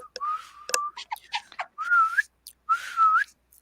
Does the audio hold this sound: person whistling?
yes